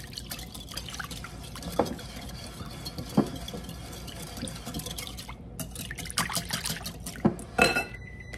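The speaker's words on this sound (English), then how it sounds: "we are going to whisk this together until the egg is completely mixed in" A whisk beats an egg into cupcake batter in a bowl, making soft wet tapping and clinking sounds with a few sharper knocks against the bowl, close and quiet.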